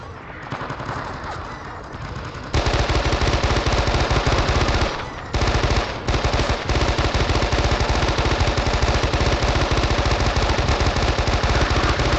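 Sustained machine gun fire during the siege of Khe Sanh, loud and close, with rapid continuous bursts over roughly ten seconds and brief gaps between volleys.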